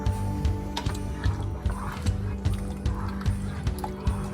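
A spoon stirs watery homemade lasagna tomato sauce, made with canned diced tomatoes, in a pot. Regular sloshing strokes repeat roughly every half second, fairly close and moderately loud.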